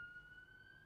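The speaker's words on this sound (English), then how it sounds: "You hear that siren?" A faint, steady siren wail far off, thin and continuous over low background hum.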